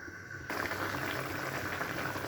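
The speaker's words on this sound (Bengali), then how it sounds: "জালটা উঠে আসা পর্যন্ত অপেক্ষা করব" A pot of mixed vegetable curry boils with dense, continuous bubbling that starts abruptly after a short quiet moment and stays close and steady.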